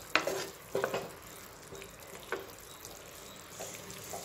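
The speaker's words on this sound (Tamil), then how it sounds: "குழம்பு பாருங்கள் நல்லா வந்து கொதிச்சிருச்சு" Tamarind brinjal curry bubbling in a pan over medium flame, with a few soft pops and sizzles near the start and a low, steady simmer afterward, no voices.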